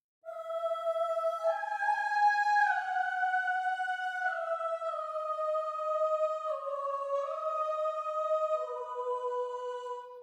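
A sampled choir legato patch, with sopranos, altos, tenors and basses loaded as independent sections, sings sustained chords that glide smoothly from note to note, steady and full for about ten seconds with no talking.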